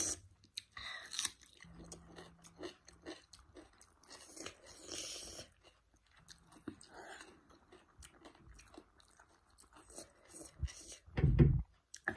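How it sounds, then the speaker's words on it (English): A person chews cucumber dipped in curry sauce close to the mic, giving quiet wet crunches and mouth sounds in an irregular rhythm, with a louder crunchy bite near the end. "Dip a cucumber with the sauce."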